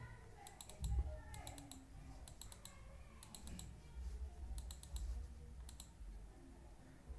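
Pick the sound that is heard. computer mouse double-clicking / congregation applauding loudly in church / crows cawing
computer mouse double-clicking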